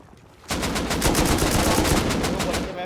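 Rapid automatic gunfire in the survival game Rust bursts in after a quiet half-second, then holds as a loud, dense stream of shots to the end.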